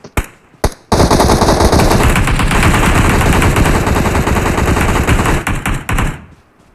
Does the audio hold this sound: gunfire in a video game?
yes